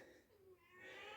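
A cat meows loudly in a room where a guitar lesson is underway, a short rising cry that swells toward the end and sounds fairly close.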